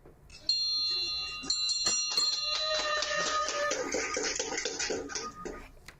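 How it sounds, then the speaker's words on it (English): A hand bell rings repeatedly with bright metallic tones that linger and overlap, amid background clatter and shuffling. "Let's hear that bell ring."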